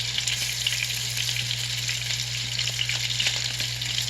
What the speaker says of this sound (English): you can see the flour is starting to bubble a little bit